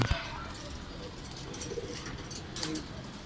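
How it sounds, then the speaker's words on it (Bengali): King pigeons coo softly in a loft against steady background noise, with low murmuring calls spread through the short stretch and no clear talk. "এই যে আমার নতুন অতিথিরা আমার অনেক পছন্দের কবুতর কিং"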